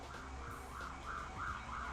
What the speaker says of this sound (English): I can hear a siren outside.